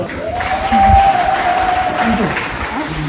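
Scattered hand clapping from a crowd at a baseball exhibition game, a soft patter of applause heard from a distance beneath a steady tonal hum, with a voice speaking briefly.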